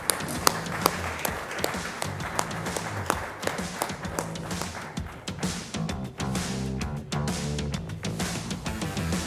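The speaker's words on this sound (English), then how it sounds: "Another round of applause, ladies and gentlemen, for what is a significant collaboration" An audience applauding at the NDTV GreenRev 2025 event, a continuous dense patter of many hands clapping with sharp individual claps standing out, loud and sustained throughout.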